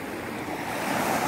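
Ocean waves wash onto a white-sand beach at a Puerto Galera resort, a steady broad surf rush that builds slightly, with some wind buffeting the microphone and no voices.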